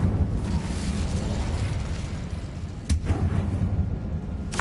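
The Incendio fire spell cast in a Hogwarts video game, a loud roaring burst of flame sustained throughout, with sharper whooshing flares near the middle and end.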